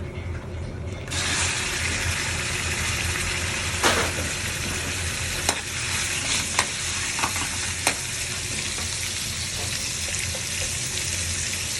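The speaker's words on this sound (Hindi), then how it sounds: "चिकन को इसके अंदर पैन के अंदर डाल देते हैं" Chicken pieces frying in oil in a pan for an Italian-style chicken pasta, a steady loud sizzle running throughout with a few sharp spatters and clinks, no voices.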